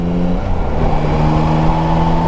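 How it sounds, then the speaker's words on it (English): Yamaha Tracer 9 GT motorcycle engine runs loud and close with a steady mid-range drone, held at moderate revs while riding with no talk. "And I've got to keep the revs down"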